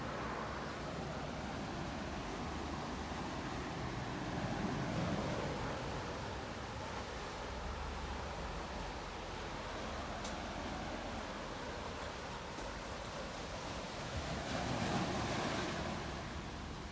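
Surf washing onto a beach at Holetown, St. James, Barbados at sunset, a steady rushing roar of waves with wind buffeting the microphone and swells rising now and then, continuous and without speech.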